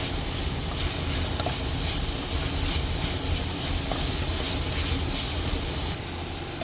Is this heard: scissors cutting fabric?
no